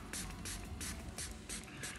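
A finishing spray is pumped in short, airy hisses onto a fresh tattoo, about five quick bursts in a steady rhythm, close and soft in a quiet room.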